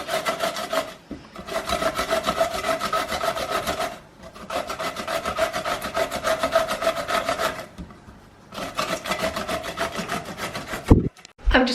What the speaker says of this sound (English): we're going to start by grating the cucumber